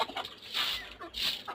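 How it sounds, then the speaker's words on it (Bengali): Tiger chickens cluck in short repeated bursts close by, a few sharp calls rising and falling over about a second and a half with no talking. "টাইগার মুরগিগুলো আমি পালতেছি অনেক শখ করে"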